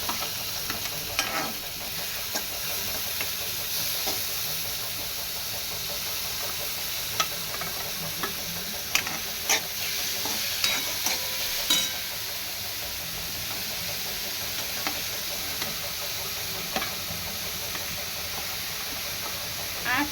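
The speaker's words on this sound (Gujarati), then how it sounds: "હવે આપણે આ બધા વેજીટેબલ્સને તેલમાં સાતળવાના છે." Mixed vegetables sauté in oil seasoned with cumin and asafoetida for a potato-vegetable bhaji, giving a continuous close hiss and sizzle broken by scraping clicks of stirring.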